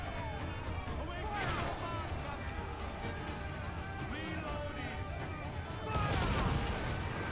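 Ship cannon fire in the naval pirate game Assassin's Creed IV Black Flag, with rumbling blasts and booms under sea-battle noise, a heavier volley at the end, and voices talking throughout.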